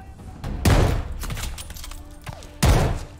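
Gunfire in the Call of Duty: Vanguard campaign: two heavy, booming shots about two seconds apart, the first followed by a rumbling tail and a low background din.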